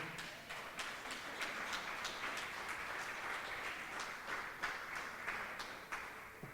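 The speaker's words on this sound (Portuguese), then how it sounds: "Eu, se fosse você, aplaudir o Senhor" A church congregation applauds the Lord at a Portuguese-language service, a quiet, distant wash of steady clapping with a few sharper claps rising above it.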